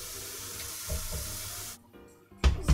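Tap water runs into a large cooking pot in a home kitchen with a steady rushing hiss for nearly two seconds, then drops away before a short, louder clatter at the end.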